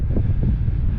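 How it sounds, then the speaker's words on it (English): Wind buffets the microphone on a coastal hiking trail, a low, steady rumble with a couple of gusty swells over a brief moment. "A little windy along the coast"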